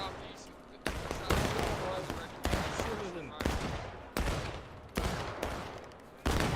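Musket fire in the American Civil War game War of Rights: about seven sharp, loud reports at uneven intervals roughly a second apart, each trailing into a rumbling decay, with faint voices underneath.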